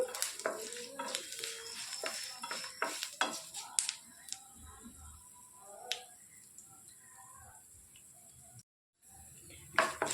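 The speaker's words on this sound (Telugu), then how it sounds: "ఒక టేబుల్ స్పూన్ ధనియాలు వేసుకొని మంచిగా వేయించుకోవాలి స్లో ఫ్లేమ్లో పెట్టుకొని వేయించుకోవాలండి" Coriander seeds dry-roasting in a pan over a low flame for bitter gourd fry, with repeated close clinks and scrapes of a spoon against the metal pan, irregular and sharp, with a brief silent gap near the end.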